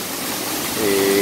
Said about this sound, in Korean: 광대곡의 제1폭포 어, 영천폭포가 되겠습니다